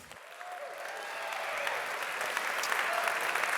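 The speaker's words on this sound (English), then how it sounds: "That's a rookie mistake. Never clap for the pastor before he speaks." A church audience applauds to welcome a campus pastor, with steady crowd clapping that swells gradually and holds dense and sustained throughout.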